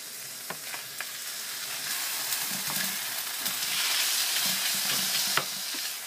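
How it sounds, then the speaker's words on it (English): A pork chop sizzles steadily in a hot frying pan, with a dense hiss and small crackles as the meat is flipped. "So I'm going to flip it on the other side real quick."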